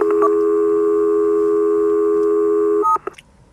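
A steady two-tone telephone dialing signal holds for nearly three seconds, then breaks into short beeps before cutting off.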